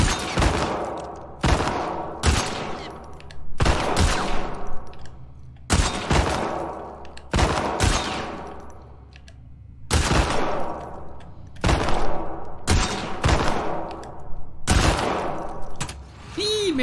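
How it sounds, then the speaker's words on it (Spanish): Sharp gunshots in The Last of Us Part II video game ring out one after another at steady intervals during a shooting contest, each loud crack followed by a fading echo. "¿Una competencia de disparos?"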